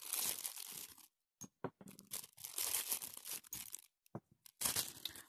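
A plastic packet crinkling close up as small bottles of nail oil are pulled out, in several loud rustling bursts separated by brief silent pauses.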